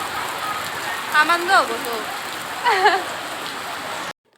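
Rain falls steadily on an outdoor ground during a police commando battalion physical test, a dense even patter throughout, with brief voices speaking over it twice.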